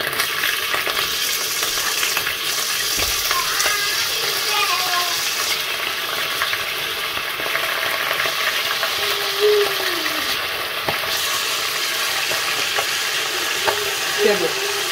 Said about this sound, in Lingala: Voilà, sikoyo tango ya kokalinga makayabu.